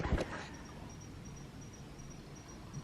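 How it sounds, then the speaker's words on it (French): Crickets chirping at nightfall outdoors, a faint, steady high-pitched trill repeating in short pulses throughout, quiet and distant, following a brief louder rustle at the start. "Vous entendez les petits grillons?"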